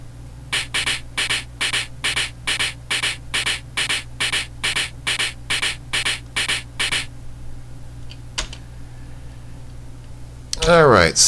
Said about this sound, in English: that's the sound of Orat bouncing Roger